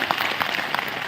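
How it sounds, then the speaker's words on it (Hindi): Brief burst of applause from a training session audience in India, a short wash of clapping that stays fairly even and close for about a second. "इसके लिए एक बार जोरदार ताली।"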